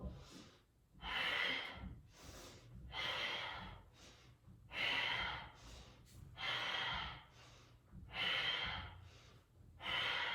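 Rhythmic breathing during a slow-burn workout, with strong audible breaths in and out alternating roughly every second or two, close to the microphone and quite loud, with no talking.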